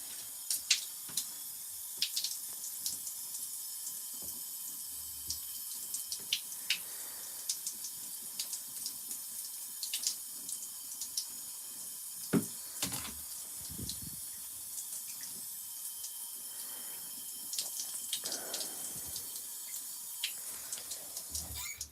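Cold water runs into an LG ThinQ Mega Ultimate washing machine as a steady soft hiss with light splashing, continuing throughout alongside occasional small clicks and handling noises.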